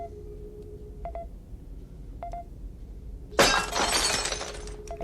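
Glass smashes loudly and abruptly in a scene from the film Star Trek II: The Wrath of Khan, a bright crashing burst that lingers briefly after a few quiet electronic beeps.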